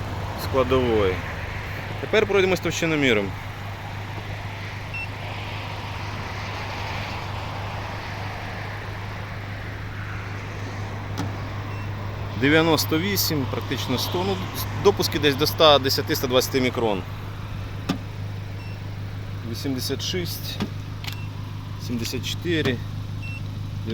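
2020 VW Golf VII GTI with a 2.0 TSI petrol engine and manual gearbox idles in a steady low hum throughout, while someone speaks at intervals over it.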